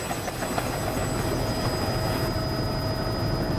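Steady, loud helicopter rotor and engine drone during an aerial filmmaking flight, a continuous broadband roar with a faint high whine, unbroken and close throughout.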